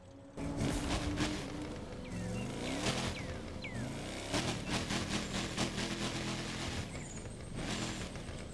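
A Ford Mustang Boss 429 V8 in The Crew 2 video game rumbles steadily, its engine note rising and dropping over several revs, with clicking game sounds and no voices.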